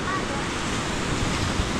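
Sea waves wash onto the shore at high tide, a constant loud rushing roar with wind buffeting close to the microphone and a possible faint voice underneath.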